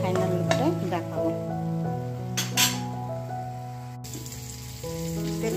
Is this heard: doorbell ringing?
no